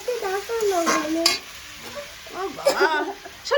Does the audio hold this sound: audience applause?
no